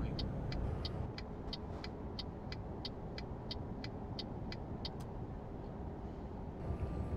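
A truck rumbles along at steady, lowered speed in Euro Truck Simulator 2, a constant low engine and road drone, with a regular row of faint high ticks like an indicator clicking over it.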